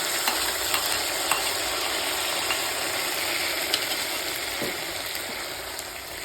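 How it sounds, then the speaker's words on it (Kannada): Tempering spices crackle in hot oil for bisibele bath, a steady close sizzle with small scattered pops and ticks throughout, no voices. "ಇವಾಗ ನೋಡಿ ಈ ಒಗ್ಗರಣೆ ಹಾಕ್ತಾ ಇದ್ದೀನಿ"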